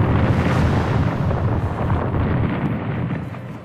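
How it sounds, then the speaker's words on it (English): A titanic explosion in a Total Annihilation: The Iron Plague game cinematic: a loud, dense roar of rumbling blast noise that rolls on steadily and slowly fades toward the end. "in a titanic explosion."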